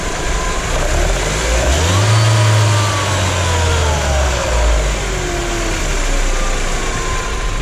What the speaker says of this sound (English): started the car up, and then the clutch actually started engaging on the supercharger